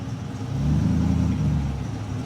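A 1970 Chevy pickup truck engine rumbles steadily as it rolls in at a hot rodding awards ceremony, a low, full drone that swells slightly and holds, with no talking.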